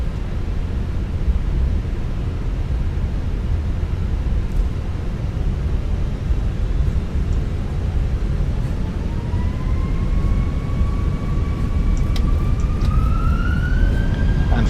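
A British Airways A320 in a flight simulator, London Heathrow to Manchester, starts its takeoff from Heathrow, with a loud, steady engine roar and a whine that rises gradually as the engines spool up.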